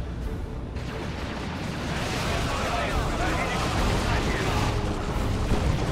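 A smoke shell goes off in the Dawn of War II battle, heard as a dense, continuous rumbling roar of gunfire and explosions that swells and holds steady throughout.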